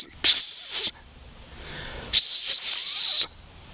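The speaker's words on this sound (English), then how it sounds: "it's also got a little ferro rod with a whistle on the top." A small survival-kit whistle mounted on top of a ferro rod is blown twice: a short shrill blast, a pause, then a longer piercing blast, loud and close with breathy hiss around the tone.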